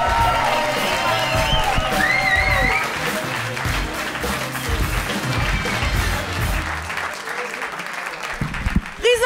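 Studio audience applauding a comedian at a Berlin comedy show, dense steady clapping with scattered whoops and cheers, a voice briefly calling out over it, tapering near the end.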